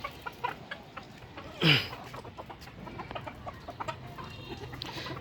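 Fayoumi chickens kept on a rooftop cluck softly amid a busy background of small pecking and rustling sounds, with one louder, brief squawk standing out near the middle.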